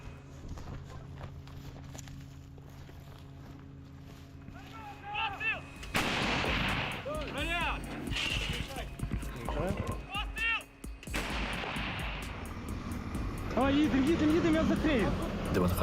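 A Ukrainian-made Bohdana 155 mm self-propelled howitzer firing shells, booming blasts heard outdoors alongside crew voices, clanking movement and other field noise.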